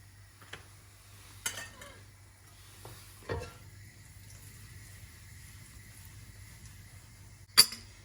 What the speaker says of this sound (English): let the oil heat up, and then I will put hing